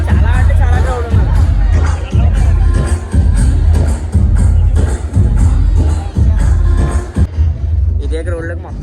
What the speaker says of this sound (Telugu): జనం అయితే చాలా అంటే చాలా క్రౌడ్ ఉన్నారు.